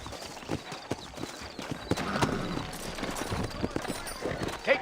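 Horse hooves clip-clop in a quick, uneven rhythm at close range in Red Dead Redemption, with muffled voices and ambient noise mixed underneath.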